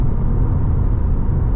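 Subaru WRX with a subdued exhaust cruising down the road, a steady low engine hum and road rumble heard from inside the cabin.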